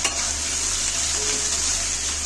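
Chopped onions, added after ginger, chilli and garlic, fry in a pan for a green pea dal, giving a steady, close sizzle throughout with a faint stirring sound and no talking.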